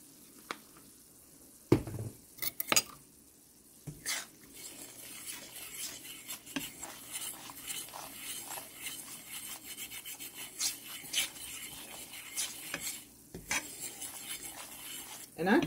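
Seasoned flour, with garlic salt in it, is stirred and scraped in a pan as it browns toward gravy. A steady close rasp runs throughout, with clinks of the utensil on the pan and a few louder knocks, and no talking.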